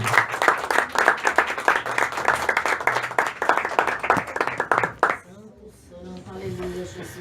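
A church congregation claps in dense, steady applause for several seconds, which stops abruptly and gives way to a quieter, softer sound.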